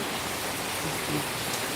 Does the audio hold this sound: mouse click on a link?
no